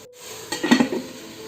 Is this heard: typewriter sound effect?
no